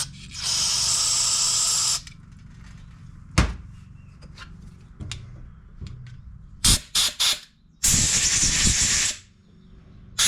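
Carburetor cleaner sprayed from an aerosol can onto the carburetor of a Honda HRR216 lawn mower, heard as a long, loud hiss followed after a pause by several short bursts and a final sustained spray, close up.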